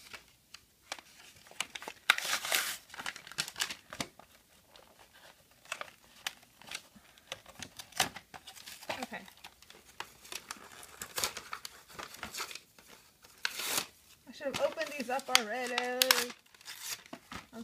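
Plastic packaging of a snowflake sticker set is pulled open, making bursts of close crinkling and tearing, with a voice briefly heard near the end.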